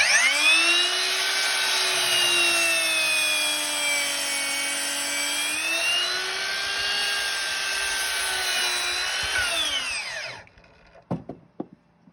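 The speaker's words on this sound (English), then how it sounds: "we'll do another cut through the second half of the timber" A power saw cuts through a length of timber for a ceiling joist installation, a loud, continuous whining drone that holds steady for about ten seconds before cutting off, followed by a few faint knocks.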